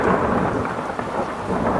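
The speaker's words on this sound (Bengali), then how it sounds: "মেঘের গর্জন যে কারোর মনে আতঙ্ক সৃষ্টি করার জন্য যথেষ্ট ছিল" Thunder rumbles through a steady roar of heavy rain on a stormy night, loud and continuous with no gaps.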